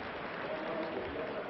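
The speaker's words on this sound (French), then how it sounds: "Durand, très applaudi, va être remplacé par Rodiger, le numéro 15." A basketball crowd applauds a substituted player in a game between Villeurbanne and Hapoel Tel Aviv in 1969, a steady wash of clapping that holds evenly throughout, with no clear gaps.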